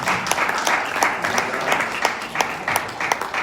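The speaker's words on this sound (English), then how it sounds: "Give a round of applause." An audience at a comedy show applauds, a lively moderate burst of clapping with distinct individual claps standing out rhythmically, no speech over it.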